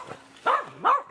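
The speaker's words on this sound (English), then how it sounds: "We're waking up all the dogs." Dogs in a big backyard give two loud, drawn-out, whining barks or yelps, close by, with a short quieter sound just before them.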